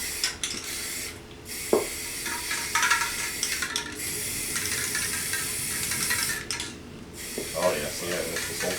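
Rattle-can spray paint hisses in several bursts over a Remington 700 30-06 rifle, short sprays separated by pauses with faint clicks and handling noises, close up and fairly quiet.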